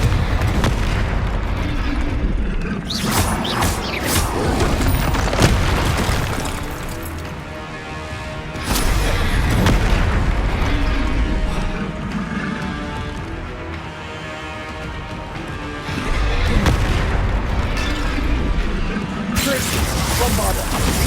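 Spell explosions from Bombarda and Confringo in the Hogwarts Legacy video game, with repeated booming blasts and crashes over a dense battle din, arriving in bursts and layered with game speech.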